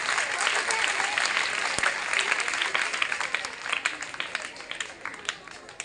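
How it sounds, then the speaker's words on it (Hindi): Loud, dense applause from a school crowd honouring top students at a senior secondary school's Independence Day celebration, steady clapping filling the space for several seconds and thinning slightly toward the end. "कंजूसी नहीं, जोर से तालियां बजा दो"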